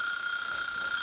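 A countdown timer alarm: a loud, continuous electronic beeping that rings without pause, a high shrill tone held steadily throughout.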